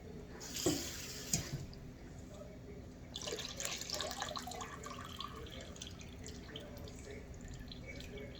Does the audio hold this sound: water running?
yes